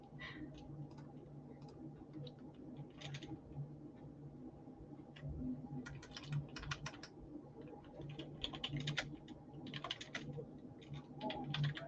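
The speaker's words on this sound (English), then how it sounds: "Let me just finish the comment I'm typing to Sabs." Someone types a comment on a computer keyboard, with quiet, uneven bursts of key clicks over a low room hum and no talking.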